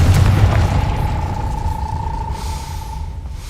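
The Confringo explosive spell is cast in a Harry Potter video game, opening with a deep rumbling boom that settles into a steady ringing tone, which lingers and slowly fades.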